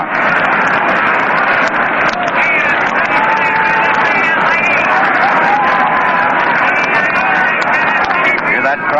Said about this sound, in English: Hear that crowd still murmuring over that play of Bartell